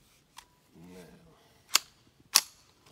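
Ruger 10-22 rifle firing two sharp, loud gunshots about half a second apart, preceded by a fainter click and a brief low voice.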